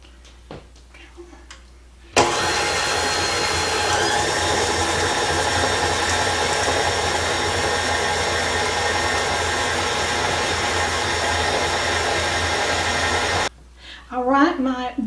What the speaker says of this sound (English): I'm going to be beating this until it's creamy on my medium setting on my mixer